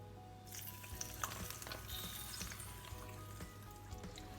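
Steady crackling sizzle of hot oil poured over drained pasta in a pot, continuous and close, with small clinks and stirring noises scattered throughout.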